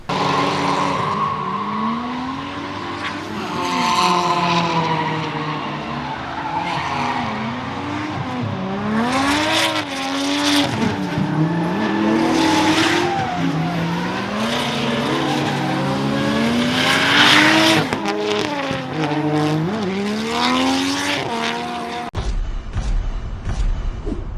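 Barra-engined wagon drifting at speed on a track, with loud, sustained tyre squeal rising and falling in pitch over a roaring engine for over twenty seconds, ending with an abrupt cut.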